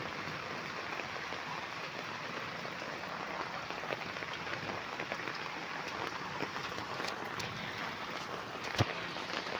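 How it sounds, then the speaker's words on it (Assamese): Rain falls steadily outdoors in a continuous dense patter on surfaces, with scattered louder drops and no talking. "মাজতে অলপ বৰষুণটো কমিছিল, এতিয়া আকৌ আহিছে।"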